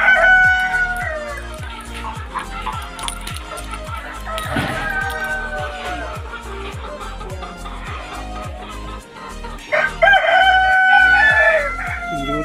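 Roosters crow repeatedly with hens clucking, close and loud, over a steady rhythmic mechanical thumping throughout.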